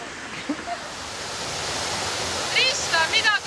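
Suvat Waterfall pours as a steady, broad roar of falling water, continuous and fairly loud throughout, with bright voices and shouts rising over it near the end.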